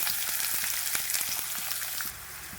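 Onions and cumin sizzle steadily in hot oil for an egg and garlic curry, a dense continuous crackle with a few brief stirring scrapes, close and fairly loud.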